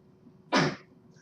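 A single short sneeze bursts out nearby in a quiet classroom setting, loud and sudden against a faint steady hum, with silence before and after.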